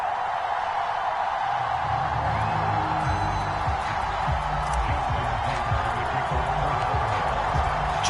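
Baltimore Ravens fans at M&T Bank Stadium before kickoff against the Green Bay Packers, a steady, loud, far-off crowd roar with a commentator talking over it.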